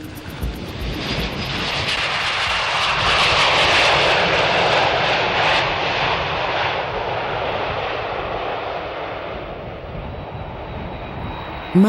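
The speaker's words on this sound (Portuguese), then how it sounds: "Mais um dia, outro avião repleto de passageiros." A passenger airplane flies overhead with a broad, steady engine roar that swells to its loudest midway, then slowly fades, with some wind rush and no voices.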